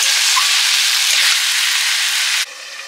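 Meat frying under a lid in a pan, a loud steady sizzle and steamy hiss that drops sharply quieter near the end, close up with no talking.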